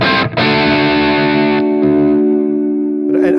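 Electric guitar played through a Keeley Mk3 Driver overdrive pedal in drive mode, a loud sustained distorted chord ringing out after a brief pick attack, then fading slightly before a fresh strum at the end.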